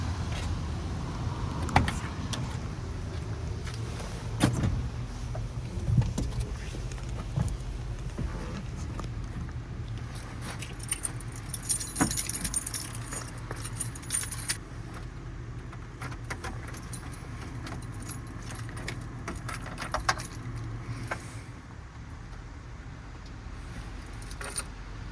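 Keys jingle and rattle inside a newly bought van, with scattered clicks, a brief electric whir and faint cabin handling noises, close and fairly quiet.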